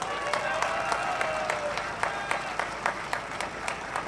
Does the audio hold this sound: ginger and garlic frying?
no